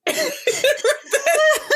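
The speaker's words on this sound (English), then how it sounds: "It's unfortunate that I suddenly needed to clear my throat." A person coughs and clears their throat in several short, rough bursts, close and fairly loud, mixed with a bit of laughter.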